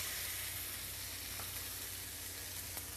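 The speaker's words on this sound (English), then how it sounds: "Maybe I'll put a little bit of pepperoncini here in this oil, make the oil a little hot. And then I'm going to put in the pork chop." Pork chop frying in a pan of hot oil with pepperoncini, a steady broadband sizzle and hiss running continuously and fairly quietly throughout, with a low hum underneath and no voices.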